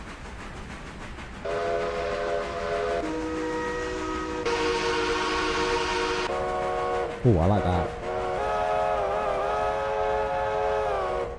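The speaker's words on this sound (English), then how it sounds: "I don't like that whistle. I'm going to change that whistle." Steam-style train whistles from the Railroader video game blow in several long sustained tones, switching between different whistle sounds, fairly loud, with someone briefly talking.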